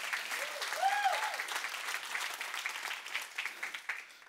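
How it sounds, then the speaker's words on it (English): Audience applause for Josue at a church talk, a steady patter of clapping that fades toward the end, with a brief voice or whistle-like tone near the start. "Let's all give a round of applause for Josue."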